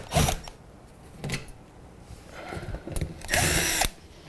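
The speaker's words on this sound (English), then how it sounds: "That's why I have my drill. Remove the drywall screws one by one." A power drill backs out drywall screws during a Cover Luxe installation, giving several short whirring bursts of different lengths separated by quiet gaps, with the last burst the longest and loudest, close by.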